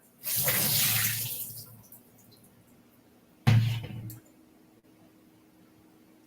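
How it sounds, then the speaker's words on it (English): Water splashes and pours in a broad rush for about a second as soaked cashews are drained in a colander, then a second shorter splash follows after a pause, close by with quiet between. "I'm going to drain these cashews"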